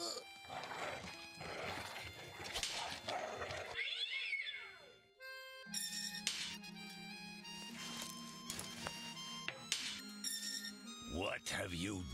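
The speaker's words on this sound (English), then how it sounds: "He's a large cat." Large cat in the video game Chaos on Deponia meowing and growling amid game sound effects and music, with wavering cries and sharp tonal bursts, while voices talk over parts of it.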